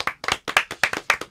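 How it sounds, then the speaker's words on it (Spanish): A live studio audience applauds on an Argentine talk show, loud clapping in about six quick bursts with short gaps, no talk over it. "Aplaudamos."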